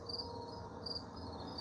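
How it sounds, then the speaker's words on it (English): Crickets chirp steadily outdoors at sunset, a faint continuous high-pitched trill with slight pulsing and no voices. "You can hear the crickets out there chirping."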